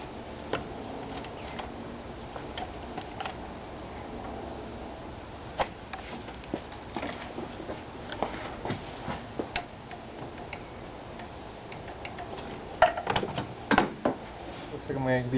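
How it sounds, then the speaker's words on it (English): A torque wrench tightens the intake camshaft sprocket bolt on a Chevrolet Trailblazer engine, giving scattered light clicks in short bursts that grow busier and louder toward the end, close by. "now I'm going to torque down the intake camshaft sprocket."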